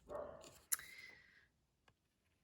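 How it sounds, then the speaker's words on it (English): A single dog bark rings out, followed by a trailing whine, then a faint short yip a moment later; moderately near, no talking. "I'm sorry if you can hear my dog barking his head off"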